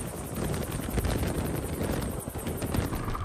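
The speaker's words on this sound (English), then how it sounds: "the divers will generally call in assistance from a helicopter" A helicopter hovering over thick ice during a Navy torpedo recovery, its rotor thudding steadily under heavy wind rush, fairly loud and close.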